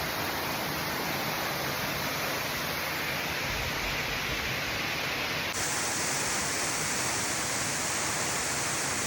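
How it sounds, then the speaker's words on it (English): A Maui waterfall gives a loud, close, continuous rushing roar of falling water, unbroken across the whole stretch with a sudden shift in tone partway through. "First waterfall."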